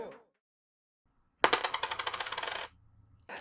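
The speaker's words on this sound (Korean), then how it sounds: "동전을 4개를 준비했는데요." Several coins are handled for a coin magic trick, dropping and clinking together in a bright, close metallic jingle lasting about a second, with no talk.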